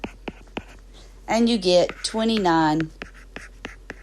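A marker or pen taps and scratches out a calculation on a board in short, sharp strokes, scattered before and after a stretch of close speech.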